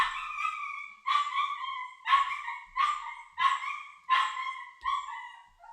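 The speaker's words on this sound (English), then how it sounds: "That's our youngest dog being very excited that Mrs. Sleuth is back" A young dog barks excitedly in a series of about seven sharp, high-pitched yelps at close range, spaced roughly a second apart and slightly strained.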